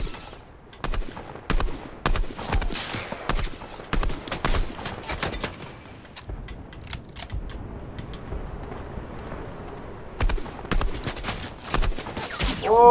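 Heavy gunfire rattles in Fortnite, loud repeated bursts and single shots in clusters, a quieter stretch in the middle, then renewed volleys toward the end.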